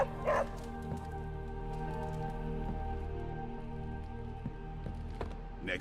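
A dog in the superhero video game Midnight Suns gives a couple of short, sharp yips, near the start and near the end, over a steady patter like rain.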